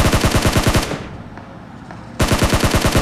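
Rapid automatic gunfire comes in quick bursts in the Battlegrounds Mobile India shooter game. A loud, close volley is followed by a short lull with faint distant shots, then another sharp burst resumes.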